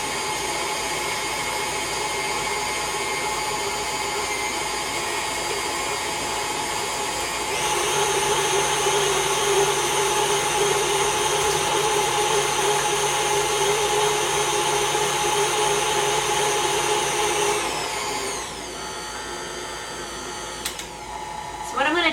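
Electric mixer whirring steadily as it beats banana pudding with a creamy vanilla pudding base, a loud continuous motor drone that rises in pitch and intensity partway through before dropping back lower near the end.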